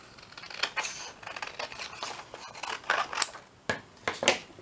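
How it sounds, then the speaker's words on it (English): Several crisp snips of large scissors cutting through a cardboard toilet roll tube, irregularly spaced with short pauses, close by with no talking. "Use my big scissors."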